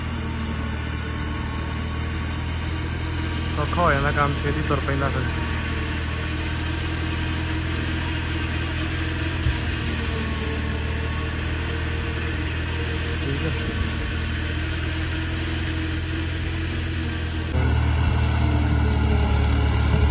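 A tractor engine running steadily in a corn field during maize cutting for silage, a continuous mid-low drone with a brief lift near the end, while someone talks over it.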